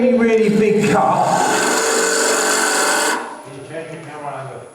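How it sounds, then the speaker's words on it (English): A woodturning tool scrapes pine on a lathe with the grain, a continuous rough rasping and whirring for about three seconds that then stops, with someone talking over it. "it's with the grain, but it's scraping"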